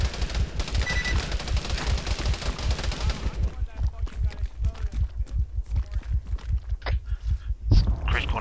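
Sustained automatic gunfire in the military shooter Arma, rapid steady bursts with loud close shots, while players talk over the radio.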